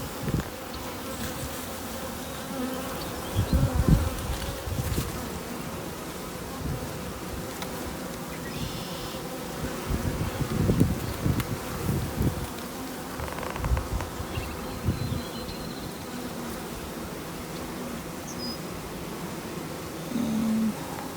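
A swarm of honeybees buzzes around hive frames in a dense, continuous hum. Close wingbeats rise and fall over a steady background drone, with no voices.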